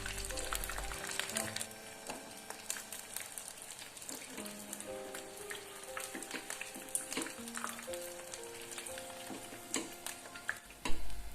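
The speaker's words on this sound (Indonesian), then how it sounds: "Bakwannya digoreng sampai kuning keemasan gitu ya bun" Bakwan vegetable fritters fry in hot oil in a home kitchen until golden, giving a soft, faint, continuous sizzle broken by light ticking and stirring clinks, with no talk.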